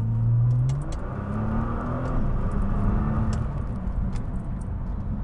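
A 2013 Nissan GT-R accelerates hard in manual mode, its engine note climbing steadily in a loud, continuous roar heard from inside the car, with no talking.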